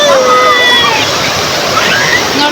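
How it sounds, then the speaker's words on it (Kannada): Water gushes forcefully at a play spot, a loud, continuous splashing rush with sloshing surges, while people's voices and a child's cry ring out over it. "ಫೋರ್ಸಾಗಿ ಬರ್ತಾ ಇದೆ ನೀರಂತೂ"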